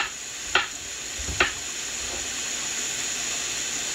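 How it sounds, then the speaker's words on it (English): Onion sizzling in a pan alongside thin pork chops seasoned with black pepper, thyme and paprika, a steady moderate hiss broken by two brief scraping stirs early on, no talking. "And then I'm going to add some onion."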